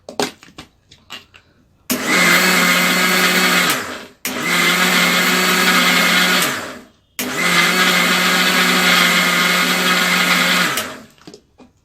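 A kitchen blender grinds sugar and pistachio milkshake premix powder in three loud bursts, starting and stopping with short pauses between, each run a steady whirring roar with no talk.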